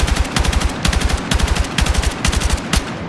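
An M277 rifle in Battlefield 6 fires on full auto in close, loud, rapid bursts, several strings of sharp shots separated by short pauses.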